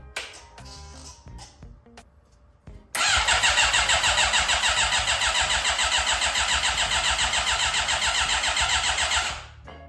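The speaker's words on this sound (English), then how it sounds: "we should be able to see this cylinder firing when we're turning the engine over" A car engine down a cylinder being turned over, the starter cranking in a steady fast rhythmic whir for several seconds after some quiet clicks, loud and close, then cutting off.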